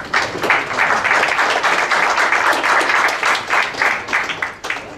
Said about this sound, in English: if we could give our guests a warm round of applause